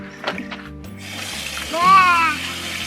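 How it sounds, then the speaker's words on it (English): Water rushes from a newly installed budget sink tap as the supply valve opens, a steady hissing flow rising and then easing, with voices talking over it. "Open the valve. We have water."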